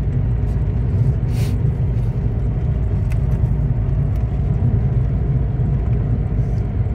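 Loud, constant low rumble of traffic on a highway, vehicles overtaking and crossing close by, heard from a moving vehicle with no talk and a few faint hisses above the drone.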